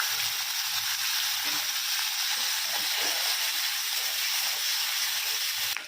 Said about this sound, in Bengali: আগে শুটকি মাছটা রসুন পেঁয়াজ দিয়ে একটু নেড়ে নেবো তেলে